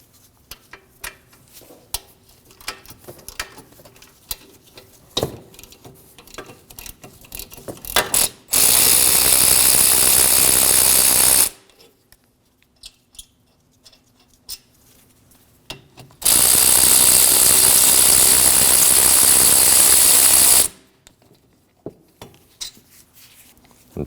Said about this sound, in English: we'll remove the bracket using a 14mm socket and a ratchet